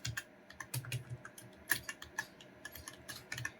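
Keys on a computer keyboard are tapped while entering loan figures into an Excel spreadsheet, giving soft, close clicks in irregular bursts, quiet and without speech.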